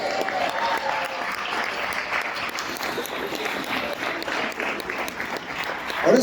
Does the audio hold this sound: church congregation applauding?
yes